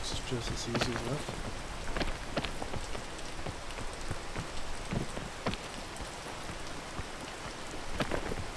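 Steady rain hiss in the climbing game PEAK, a dense wash of falling drops with scattered sharper patters and a faint low rumble, continuous and fairly loud throughout, with a voice speaking briefly over it.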